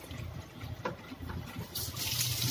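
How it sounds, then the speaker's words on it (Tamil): Cold tap water runs steadily over drained kuey teow noodles, a soft continuous trickle that swells into a louder, brighter gush near the end. "கொஞ்சம் ஒரு பச்சை தண்ணியில் ஒரு 5 நிமிஷம் திறந்து விட்டுருவோம்."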